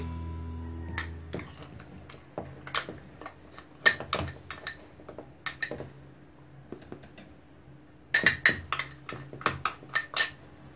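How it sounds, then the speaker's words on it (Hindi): Cake batter with sugar just added is beaten in a bowl, producing sharp, irregular clinks and taps against the bowl in quick clusters, loud and close, with a dense flurry near the end. "अब हम मज़ीद बीट करेंगे।"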